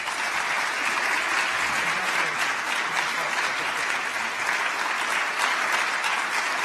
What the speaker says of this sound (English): Let's give another round of applause for the three winners of this year's Secretary of State's Award for Corporate Excellence